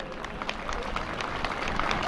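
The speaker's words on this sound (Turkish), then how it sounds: "Bir alkış rica ediyorum kendilerine." Applause from an audience at a 2015 memorial gathering with semah performances, a dense wash of clapping at moderate level that holds steady through the short stretch.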